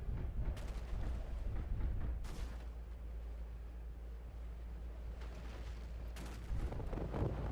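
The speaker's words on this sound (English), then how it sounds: "just trading general shots right now" Weapons fire traded in the video game MechWarrior Living Legends: two or three heavy, booming shots burst out at intervals over a low, rumbling background, moderately loud and without voices.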